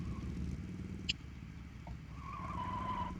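A motorbike brakes and skids in the racing game Road Rash 64. A steady engine drone runs throughout, then a drawn-out tyre squeal rises near the end. There is no talking.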